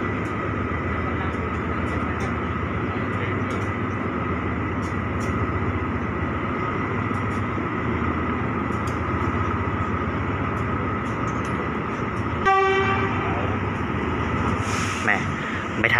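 A steady low rumble of a train departing a station in Thailand, with a voice murmuring over it and a brief tonal horn-like blast near the end.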